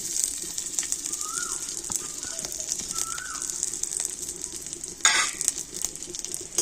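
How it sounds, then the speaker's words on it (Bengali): Finely chopped cashews and raisins frying in ghee, giving a steady bright sizzle throughout with a short louder scrape of stirring near the end and faint bird calls in the background. "তো ঘিয়ের সাথে কাজু আর কিশমিশটা একটু ভেজে নেব।"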